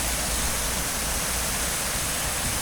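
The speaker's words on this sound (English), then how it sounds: "this was frozen over, but now the water is flowing" River rapids rush after the spring thaw, with ice recently melted. The water makes a steady, loud, close roar of broadband noise with no voices.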